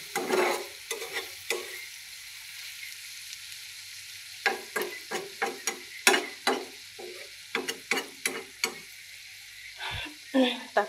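Chilies fry in oil with dried ribbonfish shutki and whole garlic cloves, a steady soft sizzle broken by repeated scraping stirs of a spatula against the pan, close up.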